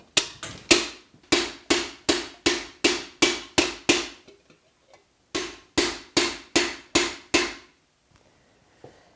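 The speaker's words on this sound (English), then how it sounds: "that's when you go to your wooden mallet" A wooden mallet strikes the edge of a silver piece in two rhythmic runs of sharp, even taps, roughly a dozen blows then a pause before about eight more, close and crisp with no talking.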